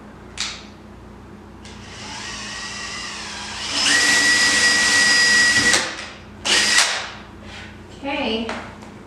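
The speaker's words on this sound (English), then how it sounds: "we're gonna drill" Power drill boring a hole into a pine dresser, one loud sustained burst of about two seconds in the middle, with shorter whirring bursts after it and quiet voices around.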